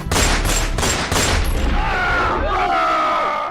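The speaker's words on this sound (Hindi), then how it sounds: "दाग दी एक के बाद एक कई गोलियां" Several gunshots fired in quick succession as a radio drama sound effect, loud sharp bursts at the start, then fading into a tonal rumble.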